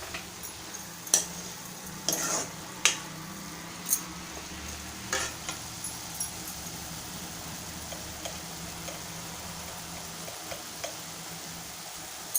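Fenugreek leaves for a Malvani-style methi bhaji hiss softly in a pan, with scattered spatula clacks and scrapes, the stirring busier early then settling into a quiet, steady sizzle.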